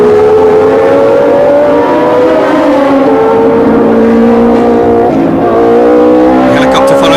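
Race cars at the Long Beach Grand Prix, including a Ligier Matra with a Matra engine, roar past loudly and close among street buildings, engine notes shifting as they brake and accelerate, with a commentator talking over them.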